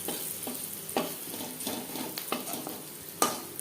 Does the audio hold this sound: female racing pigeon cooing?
no